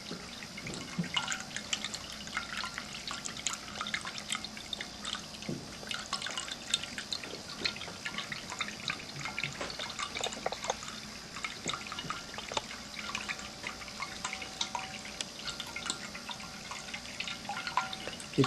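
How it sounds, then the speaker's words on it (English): Water trickles steadily from a ceramic indoor cat drinking fountain shaped like a desert tree cactus, a faint, continuous dribbling and dripping on its own with no voices. "as water miraculously spurts from one of the branches."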